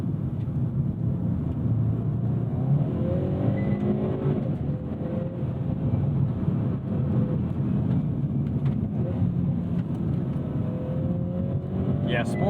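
2022 Hyundai Veloster N with a dual-clutch gearbox driving in sport mode, a steady low in-cabin engine and road drone with gentle pitch rises as it pulls, continuous and fairly even throughout.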